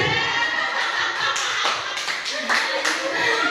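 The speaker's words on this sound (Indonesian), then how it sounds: "Kita lagi ibu kepala sekolah lagi tepuk tangan lagi." Hands clapping in a school setting, several people clapping quickly together at close range while voices talk over them.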